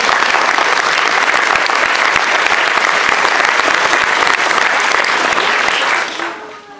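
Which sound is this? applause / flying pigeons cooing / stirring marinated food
applause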